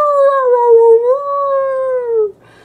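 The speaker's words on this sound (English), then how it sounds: "he barked in the middle of the night" A dog lets out one long, loud, close howl that wavers slightly in pitch before breaking off, followed by a brief quiet tail.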